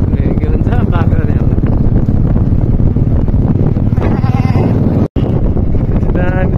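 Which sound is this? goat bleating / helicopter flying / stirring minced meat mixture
goat bleating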